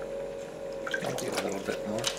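Hot water poured into a foot massager basin, a soft splashing trickle that begins partway through and runs under a person talking nearby, with a faint steady hum behind it.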